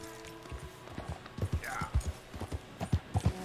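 Horse hooves clip-clop at a steady riding pace in the video game Red Dead Redemption 2, with distinct rhythmic thumps growing clearer midway alongside faint game ambience.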